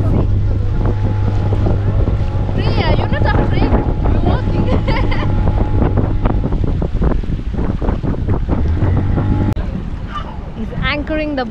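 A boat's engine rumbles steadily while anchoring off Mombasa, Kenya, with wind buffeting the microphone and water sloshing nearby, and voices faintly audible beneath the noise.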